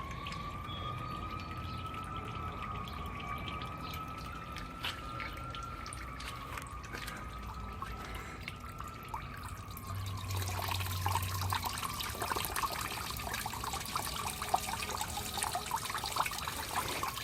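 Coolant drains from a Pontiac LeMans radiator into a drain pan, a steady trickling stream with faint dripping, close by and alone, growing fuller and louder in the second half.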